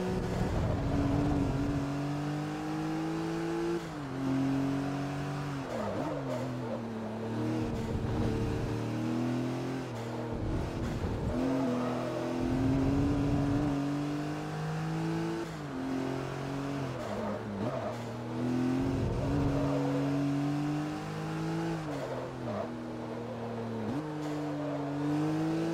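Engine roar from a car in the racing game Forza Motorsport 3, a loud continuous revving that climbs through gears, drops on repeated shifts and climbs again, with no talk over it.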